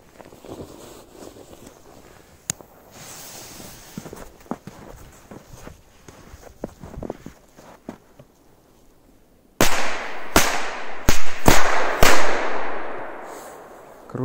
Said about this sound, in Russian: аж в воздухе он рванул возле дерева. Очень громко было, отличный корсар.